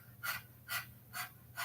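Four quick, evenly spaced breaths, like a dog panting, are pushed out through the open mouth in a yoga breathing practice, each a short airy huff, close and quiet.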